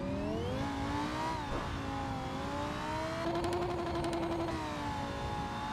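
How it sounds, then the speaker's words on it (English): A Lamborghini drift car's engine holds high revs near the rev limiter, a loud, sustained droning whine that swells and dips slightly, with a brief rattling burst partway through and no voices. "Trying to, be easy on the throttle to try not to bang rev limiter so much."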